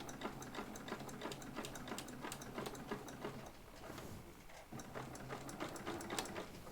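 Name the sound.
sewing machine stitching a cross body bag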